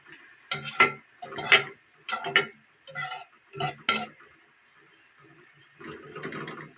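Sliced onions fry in oil while being stirred continuously toward dark brown, with a series of scraping spatula strokes against the pan in uneven bursts over a faint sizzle, ending in a softer steady hiss.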